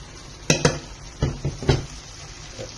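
A spoon scrapes and knocks against a pan as chicken is stirred in butter for Malayalam chicken choothattam: a few distinct metallic clinks and scrapes, close by, over a faint background, with no talking.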